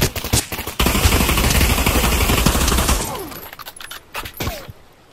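Rapid pistol gunfire in the VR shooter Pavlov, a dense burst of close, loud shots lasting a few seconds, then scattered separate shots trailing off.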